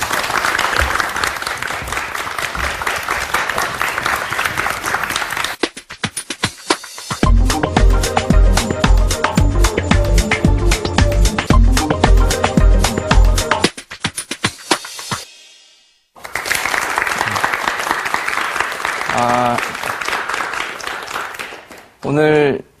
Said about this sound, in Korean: 여러분 박수로 시작하죠